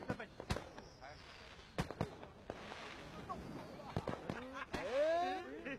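Fireworks being set off outdoors, with sharp bursts and cracks scattered through a noisy scene and people shouting and talking over them.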